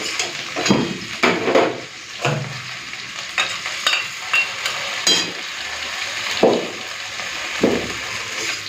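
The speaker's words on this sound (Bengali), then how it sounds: "পোস্তটাকে একটুখানি ঢেঁড়স আলুর সাথে ভেজে নিই" Okra and potatoes with poppy seed paste sizzle in a hot pan while a utensil stirs and scrapes in repeated bursts, close and fairly loud.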